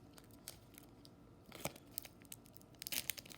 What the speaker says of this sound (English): We're going to be opening this pack for the rest of the video